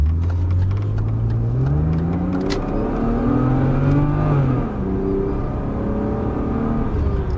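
A BMW E36 320i coupé's engine running in sport mode, heard from inside as it pulls through the gears with rising and falling revs, steady and fairly loud, without anyone speaking over it.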